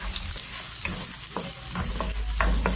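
Onion, garlic and ginger frying in hot oil, a steady close sizzle with scattered stirring scrapes and clicks throughout, no talking.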